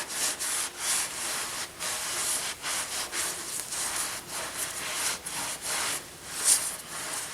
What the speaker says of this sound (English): way to go is a low speed drill, so you can accomplish that and then just keep moving up and down